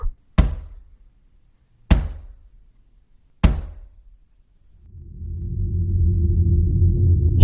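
Three heavy, hollow knocks on a door, spaced well apart with silence between, followed by a rising low rumbling drone.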